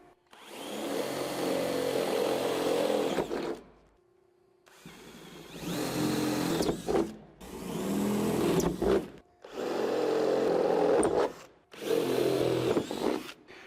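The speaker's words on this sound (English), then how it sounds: "So I'm going to drill out the center hole to 1/2 inch for all the cab lights." A power drill bores holes through a pickup truck's metal roof in five separate bursts of a few seconds each, whining loudly up close, with short silent gaps between them.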